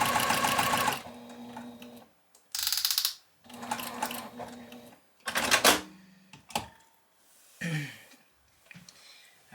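A sewing machine stitches a sampler quilt block in short bursts separated by pauses, close and fairly loud, with some mechanical clatter.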